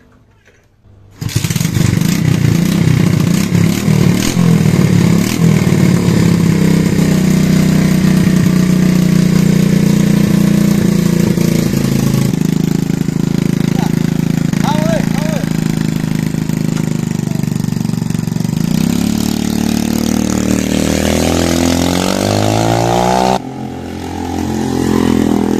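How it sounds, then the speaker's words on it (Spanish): A Yamaha FZ 1.6 motorcycle engine, set up in cafe racer/scrambler style, starts up and runs loud and close, revving and settling into a steady idle for over twenty seconds with no talking. "Vamos a ver cómo anda la motito."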